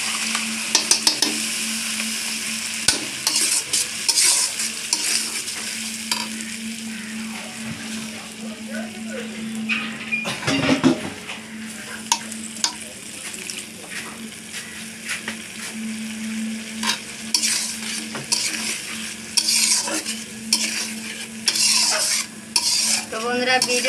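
A spice paste is poured into a hot pan and stirred as it fries, with a steady sizzle under repeated scraping and clinking of a utensil against the pan, and occasional talk in the background.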